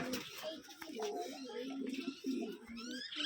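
Pigeons on a pigeon farm coo in overlapping, throaty, repeated calls, close and continuous across the short stretch, with several birds sounding at once.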